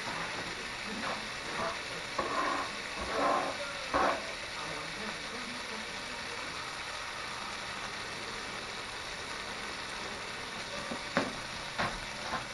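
Minced onion, one small onion, cooks in a pan with a faint, steady sizzle, broken by a few brief stirring clicks and scrapes early on and near the end.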